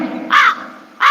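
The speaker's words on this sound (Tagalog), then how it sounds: "May uwak." A crow gives two loud, harsh caws close by, roughly half a second apart, with a quieter low hum beneath them and no talking.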